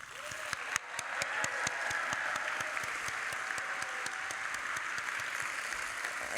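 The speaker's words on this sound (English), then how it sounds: "So please join me in giving one final round of applause for this tremendous group" Steady applause rises from the audience at the Wharton doctoral graduation ceremony for the graduates, sustained dense clapping in a large hall.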